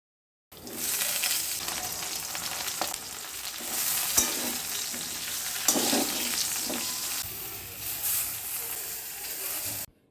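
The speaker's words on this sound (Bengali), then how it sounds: "বেগুনগুলো হালকা ভেজে নিলাম" Long strips of brinjal fry in hot oil for a Bengali home meal. The sizzle is loud and steady and sits close by, with a few sharper spits and clinks from stirring. No one speaks.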